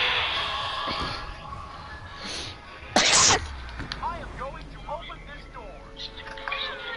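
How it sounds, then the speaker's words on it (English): A single sharp sneeze, close and loud, amid speech from young people talking during a Fortnite gaming session. "I sneeze."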